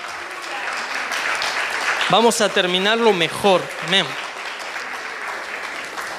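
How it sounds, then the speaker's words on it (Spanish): A church congregation applauds during a Spanish-language sermon, steady clapping that carries across the whole stretch while a preacher speaks over it. "Dale un aplauso al Señor."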